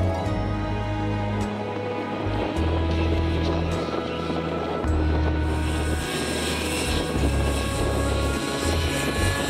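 A combustion-engine model aircraft flies at an air show, its engine droning steadily and loudly throughout with pitch and level shifting as it maneuvers, with no one talking.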